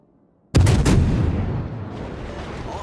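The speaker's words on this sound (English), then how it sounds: "Anti-aircraft gun crews are on full alert. Concentrate fire on the designated target." Anti-aircraft gun crews firing on a target: after a brief hush, a sudden loud blast erupts with a few rapid follow-up reports, then a long rumbling echo fades slowly.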